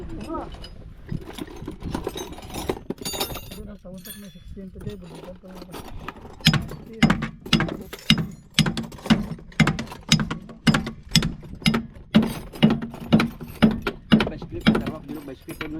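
Hand tools work at a car's brake caliper, first a scatter of metal clinks and scrapes, then a steady, rhythmic ratcheting that repeats about once per second, close and fairly loud, with people talking now and then.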